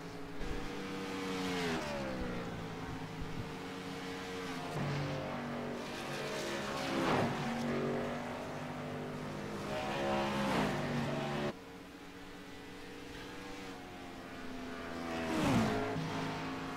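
Race cars lapping a track, their engines revving and shifting through gears with a steady, loud drone that swells and fades as they pass, under occasional faint talk.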